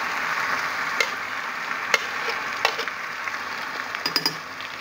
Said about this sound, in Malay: Okey, kita tuang bahan-bahan dah yang dah kita blender tadi.